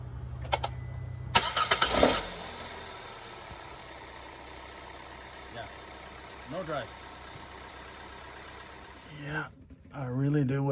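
A Hyundai Tucson engine with a clutchless AC compressor starts up and keeps running, a loud steady drone topped by a piercing high whine that holds for several seconds before dropping, with a voice heard briefly.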